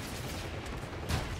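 Rapid gunfire in the video game Call of Duty: Infinite Warfare, a dense continuous burst with a louder blast near the end, heard alone.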